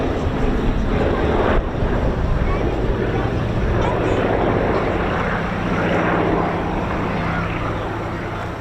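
A Fairey Swordfish biplane of the Fleet Air Arm heritage flight, based at Yeovilton in Somerset, drones steadily overhead at an RAF Cosford air show, a continuous engine rumble mixed with wind buffeting and crowd noise.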